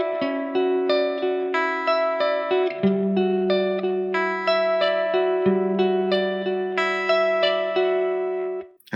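An electric guitar plays a riff through effects, with chorus-like shimmer, reverb and light distortion, repeating plucked notes in a steady rhythm over sustained lower tones, loud and close with no voices.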